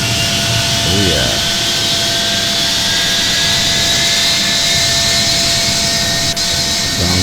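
A Boeing 757 jet engine, number 2, spooling up during its start: a steady loud turbine roar with a rising whine that fills the clip, with a voice heard faintly underneath.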